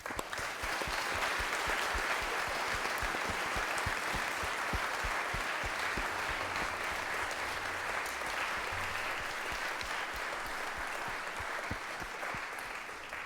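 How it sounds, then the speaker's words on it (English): Sustained applause from an audience at a headmaster's gathering, a dense, even roll of many hands clapping that continues for several seconds at moderate distance with no talk over it. "Give him a round of applause, please."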